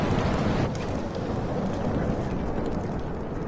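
Steady heavy rain with rumbling thunder from a thunderstorm in a PS4 video game, a dense, continuous wash of rain close by with low rolling thunder underneath and no voices.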